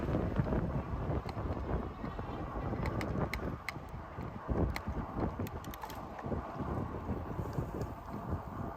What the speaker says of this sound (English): Ooh, that wind.